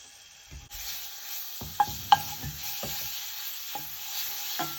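Two cloves of grated garlic in olive oil in a pan give a faint, steady sizzle, broken by a few sharp stirring clanks and scrapes of a utensil against the pan.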